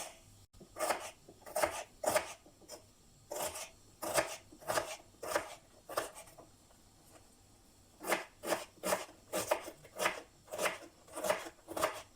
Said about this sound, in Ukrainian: Одну невеличку цибулину розрізаємо наполовину та кришимо дрібненькими кубиками.